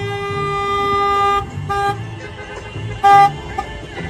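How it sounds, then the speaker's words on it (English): A convoy of protest vehicles rolls in honking, with sustained, loud horn blasts layered over one another and then short toots, over road and engine noise outdoors. "here is the convoy of supporters and protesters honking their way in"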